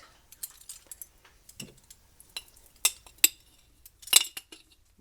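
A shaker cup with a mixing ball while hot cocoa is prepared: scattered close clinks, taps and rattles of metal and plastic, irregular and fairly quiet, with no talk.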